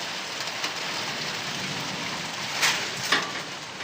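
Heavy rain drums loudly and steadily on metal roof sheets during a downpour in Hyderabad, a dense close roar with a couple of sharper louder bursts near the end and no voices.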